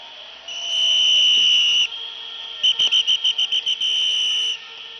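Whistles blown by a protest crowd shrill loudly: one long sustained blast, then a quick run of about eight short rhythmic toots followed by another long blast, close and piercing, with no talking.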